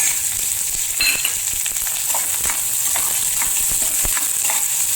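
Chopped onion sizzles in hot oil in a pan, a steady loud frying hiss with intermittent scraping taps from a spoon stirring it around.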